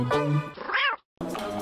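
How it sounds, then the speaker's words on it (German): A young male cat meows once in a rising and falling call, held on a father's arm indoors, with talking just before and just after it. "so ein lieber kleiner Kater auf Papas Arm"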